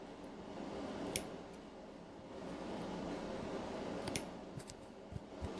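Scissors trim embroidery foam for a machine-embroidered in-the-hoop magnolia trivet, giving faint, sparse snips and crisp clicks over a steady low room hum.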